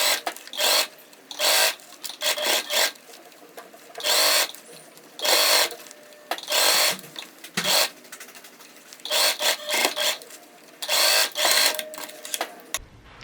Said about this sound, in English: we're going to continue sewing all the way around